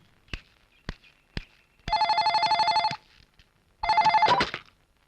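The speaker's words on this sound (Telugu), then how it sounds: "మీ డాడీ ఫోన్ చేశారు, మళ్ళీ 5 నిమిషాల్లో చేస్తామన్నారు" Three sharp knocks or footsteps precede two bursts of an old-style telephone bell ringing, each about a second long, clear and close in an otherwise quiet room.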